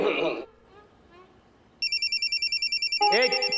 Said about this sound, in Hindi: चलो फोन आ रहा है